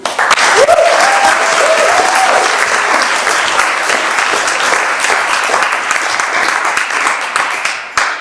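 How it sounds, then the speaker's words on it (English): Wedding reception guests break into loud, sustained applause for the bride, groom and their families, a dense close clatter of many hands lasting several seconds, with a brief whistle or cheer near the start before fading at the end. "So I'd like to start this speech with a huge round of applause for Ian, Joanne, Martin and Stella, and of course Joe and Laura, the bride and groom."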